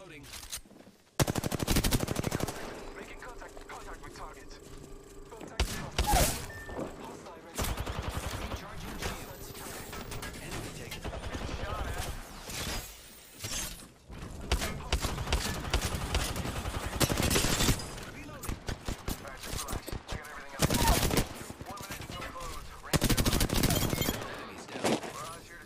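Automatic gunfire from an Apex Legends weapon, rapid bursts in several loud strings spread across the stretch, with a player's voice talking between and over the shots.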